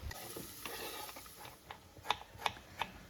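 Garlic and green chilies sauté in a pot while being stirred, a soft steady sizzle under a run of light scraping strokes, then a few sharper taps of the utensil against the pot, close and quiet.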